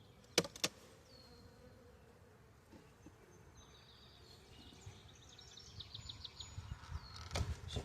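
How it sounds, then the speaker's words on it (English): Honeybees buzz faintly around a hive box during a hive inspection, a low continuous drone with a few sharp knocks and rustles, swelling slightly toward the end. "Some bees on the side of the box there."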